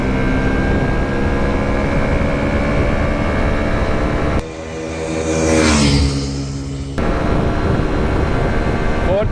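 A powerful motorcycle engine pulls hard while riding, a steady loud drone with rising pitch through a brief shift gap, close and continuous with no talk over it.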